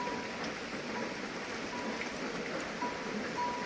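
Steady patter of light rain falling, a soft even hiss with scattered drops, no voices.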